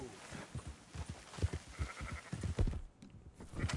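Sheep being herded in Red Dead Redemption 2 let out repeated wavering bleats amid low trampling and game noise, with a voice talking partway through.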